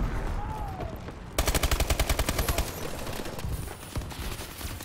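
Video game gunfire bursts out as a rapid automatic volley with evenly spaced shots lasting about a second, then scattered single shots and game sounds follow, with no voices.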